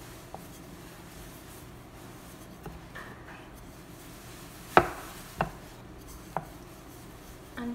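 Dough for a cauliflower paneer paratha rolled out with a pin on a floured surface: a soft, steady scraping rub, broken by a few light knocks and taps of the pin.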